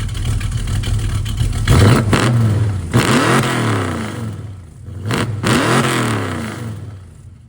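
A Dodge Dart V8 fitted with a Holley 650 race carburetor revs hard close by, each blip climbing to a loud snarl and falling back to a lumpy idle, repeated several times.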